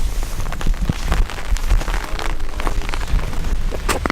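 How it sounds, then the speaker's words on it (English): Steady rain patters and drips on a nearby surface at a winter camp in Allegheny National Forest, with scattered louder drops tapping through a constant wet hiss. "It's raining and getting rainier."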